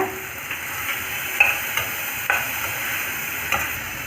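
Soft sizzling of tomato frying in a pan, with occasional light clicks of a spoon stirring, steady and close.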